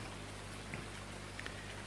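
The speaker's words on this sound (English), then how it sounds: "It still rains through the roof, and it still rains inside the vehicles as well." Rain falling through a leaky shed roof in Farming Simulator 19 on PS4, a faint, steady hiss of drops with a few soft patters standing out.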